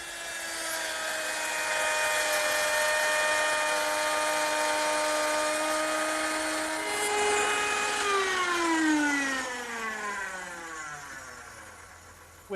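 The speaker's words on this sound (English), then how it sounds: "With the same dovetail bit mounted in my router, which is now under this router table, I'm able to make the male part of that dovetail joint." A router mounted under a router table spins a dovetail bit to cut the male part of a wooden dovetail joint, giving a loud steady high whine that winds down in pitch near the end.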